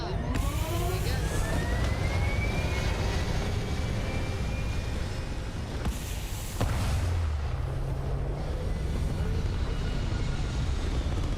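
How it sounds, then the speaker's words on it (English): Spacecraft engines fire at take-off in a video game, giving a loud, sustained roaring rumble that fills the whole clip, briefly thinning out midway before surging back. "Engines firing."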